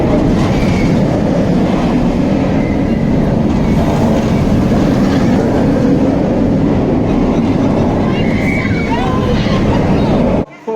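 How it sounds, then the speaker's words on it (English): The Nemesis roller coaster train at Alton Towers roars and clatters past, loud and continuous over steady rain, before cutting off abruptly at the end. "There goes the first train of the day."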